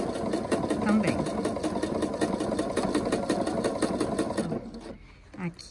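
Sewing machine running at slow speed while sewing a triple stitch for a decorative finish, a steady rhythmic whirring of needle strokes that stops near the end.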